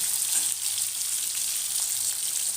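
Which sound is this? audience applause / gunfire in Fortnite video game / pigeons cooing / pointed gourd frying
pointed gourd frying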